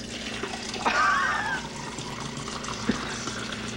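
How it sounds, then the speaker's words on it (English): Tap water runs from a kitchen faucet in a village home, a steady splashing stream close by with a brief burst of louder gushing near the start and a small clink later. "so that's coming out of the faucet"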